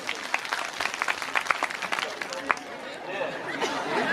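An audience at a speech event claps in a scattered burst that rises and then thins out. Crowd chatter and murmuring carry on underneath.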